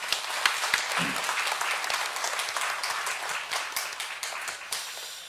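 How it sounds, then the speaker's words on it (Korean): A church congregation applauds during a Sunday morning service, with steady, full clapping from a large room that holds even for several seconds before easing slightly at the end. "영광의 박수 올려드리겠습니다."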